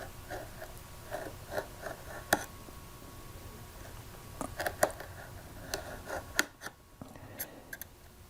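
Wood veneer edge banding being trimmed at the end of a side panel, a scattered series of small dry clicks and snips, close but quiet over a faint steady hum, with no talking.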